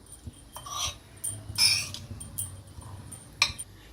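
Salad tossed with plenty of coriander and lemon in a home kitchen, giving a few light clinks and scrapes of a utensil against a bowl, soft and close with quiet gaps between strokes.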